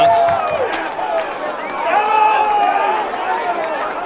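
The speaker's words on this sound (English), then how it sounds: "Crowd are going nuts." Football crowd at a Devils v Dockers EFL match roaring and cheering after a goal, a dense sustained swell of voices with a commentator talking over it.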